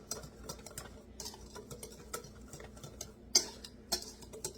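Spoon stirring apple fritter batter with nutmeg in a bowl, soft repeated scraping and light clinks of utensil against the dish, quiet and close.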